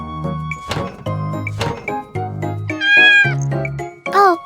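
A cat meows several times in succession, close and fairly loud, with drawn-out harmonic calls rising toward the end, heard alone without talk in an indoor setting while a miniature chocolate Oreo cake is being decorated.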